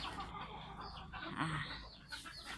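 Silkie chickens let out of their coop to relax give soft, low clucks mixed into steady close-up background noise, with one clearer call near the middle of the short stretch.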